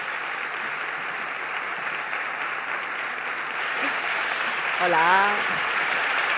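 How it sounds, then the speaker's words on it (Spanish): Audience applause welcoming guests onto a stage at a public conference dialogue, a sustained dense wash of clapping from a large crowd, with a voice briefly speaking over it near the end. "Démosle un aplauso de bienvenida a nuestros invitados"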